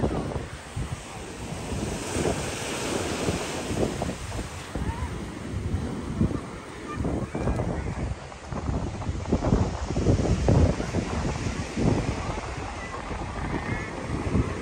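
Ocean waves break and roll at Long Branch beach while strong wind buffets the microphone, a loud, continuous rumbling wash with surging swells, and a voice speaks faintly beneath the roar.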